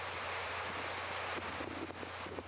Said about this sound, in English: These waves come up quite high.